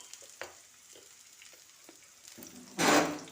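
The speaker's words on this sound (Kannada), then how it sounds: "ಇವಾಗ ಇದನ್ನು ಫ್ರೈ ಮಾಡ್ಕೋಬೇಕಾ ಚೆನ್ನಾಗಿ." Green chillies and mustard seeds fry in a pan with a soft, steady sizzle, punctuated by small spattering pops and ending in a sudden loud hiss.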